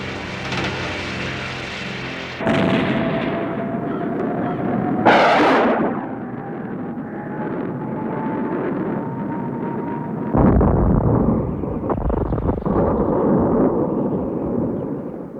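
A cartoon gunpowder blast bursts out loud after a rising whistle, followed by a long roaring rumble and a second heavy boom, large and close, layered with sustained crackling noise and no talking.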